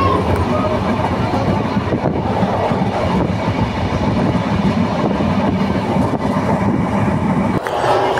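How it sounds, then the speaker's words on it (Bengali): A Rupsha Bangla express train runs at about 100 km/h, heard from inside with a loud, steady rumble and rhythmic clatter of the wheels over the rails. "ট্রেনটি 100 স্পিডে চলতেছে"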